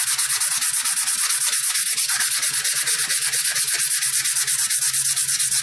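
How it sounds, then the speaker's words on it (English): Wet sandpaper rubbed steadily back and forth on a G10 knife handle while contouring, giving a close, continuous rhythmic scratching with no pauses and no voices. "you'll see that sandpaper lasts a while if you keep it wet like this on G10"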